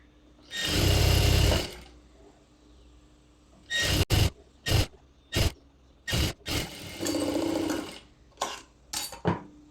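A sewing machine stitches the folded bottom hem of palazzo pants, starting with one sustained close whirring run, then several short stop-start bursts, a longer run and a few final quick pulses.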